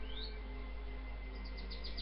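A performer mimics birds with his voice, producing a run of short, rising chirps and tweets over a steady low hum, with no talking.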